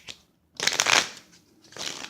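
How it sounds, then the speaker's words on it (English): Two quick bursts of cards riffled and shuffled close up, with a short pause between them. "One more shuffle."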